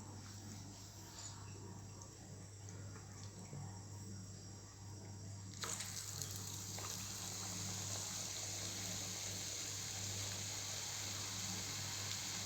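Egg bonda battered with flour and egg frying in hot oil, a steady crackling hiss that jumps louder partway through as another piece goes in, with a constant low hum beneath.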